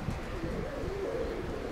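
Armenian fighting pigeons coo softly in a low, rolling murmur, close but faint against a steady background hum, without talking.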